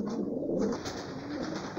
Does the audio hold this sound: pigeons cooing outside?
yes